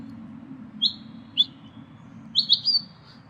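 A chaffinch gives a few short, bright chirps, two brief calls early, then a quick cluster of three near the end, clear against a quiet background hum.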